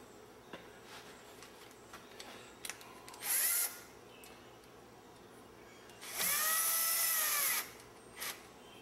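A power drill boring into a wooden gear held in clamps, whining in two short bursts, the second longer, against a quiet workshop background.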